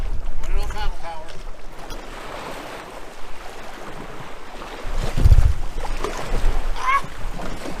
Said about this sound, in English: Running on paddle power.